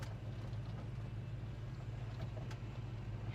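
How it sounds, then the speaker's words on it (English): Car engine running steadily after a rotted-out radiator was repaired, a constant low rumble throughout with no talk, as the car drives down the road on a short test drive. "let me get this pulled forward and we'll go for a spin real quick"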